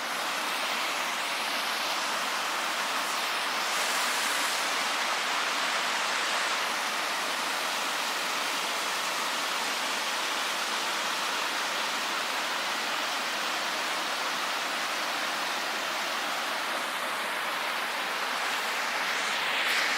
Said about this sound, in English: I'd rather listen to the creek roaring